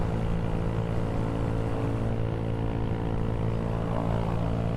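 A Honda Grom motorcycle fitted with a new exhaust rumbles at night, a loud, low, steady engine drone with a deep throaty tone and no talk.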